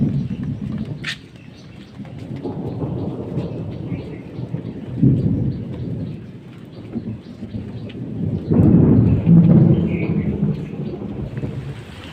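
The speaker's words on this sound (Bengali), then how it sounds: "এত মেঘ ডাকছে, ভয় লাগছে।" Heavy rain pours outdoors as rolling thunder booms repeatedly, loudest near the end, with a steady wash of raindrops and a few faint bird calls underneath.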